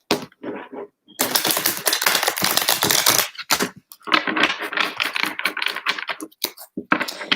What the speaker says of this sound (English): I am going to start shuffling these cards